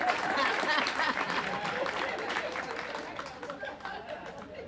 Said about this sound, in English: how about a nice round of applause for this young man right here?